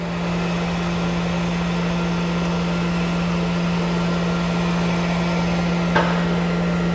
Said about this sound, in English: it's naturally tenderizing the meat mechanically by hitting the bottom of that barrel